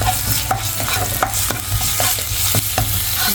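Curry leaves and ginger are stirred into food frying in a pan, with rhythmic spatula scrapes about twice a second over a continuous close sizzle.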